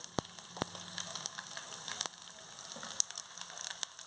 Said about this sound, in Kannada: ಈಗ ಎಣ್ಣೆ ಕಾದಿದೆ. ಒಗ್ಗರಣೆಗೆ ಬೆಳ್ಳುಳ್ಳಿ, ಒಂದು 1/4 ಸ್ಪೂನ್ ಸಾಸಿವೆ, ಒಂದು 1/4 ಸ್ಪೂನ್ ಜೀರಿಗೆ